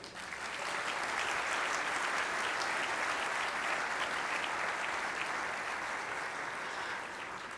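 Steady, dense applause from a large gala audience honoring the sponsors of a tech awards evening, sustained and even throughout without speech.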